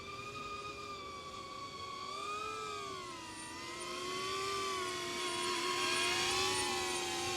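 A DJI Avata 2 FPV drone flies in to land in high country, giving a steady close whine whose pitch bends and wavers as it manoeuvres. It grows gradually louder toward the end, with no talking.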